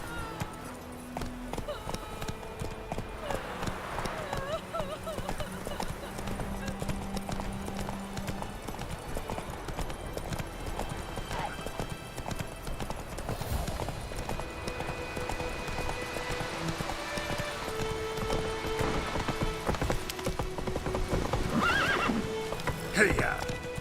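A horse in The Witcher 3 gallops with steady clip-clopping hooves and gives several whinnies and neighs, set against in-game ambience and character voices talking over the action.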